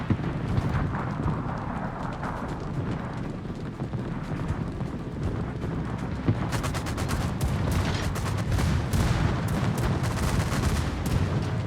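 Battleship broadside gunfire from the Massachusetts in World of Warships, a dense, continuous barrage of booming blasts and rumbling impacts that grows busier and sharper partway through.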